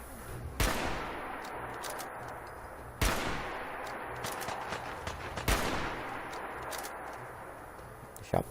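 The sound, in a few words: gunfire in the video game Fallout 4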